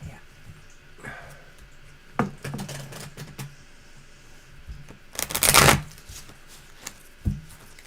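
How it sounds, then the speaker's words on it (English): Tarot cards are handled and shuffled at a table in scattered bursts of papery riffling and tapping, with one loud riffle midway, fairly close and otherwise quiet. "Well, then I'll let you shuffle those cards."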